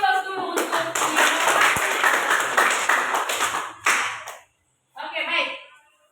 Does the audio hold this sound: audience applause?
yes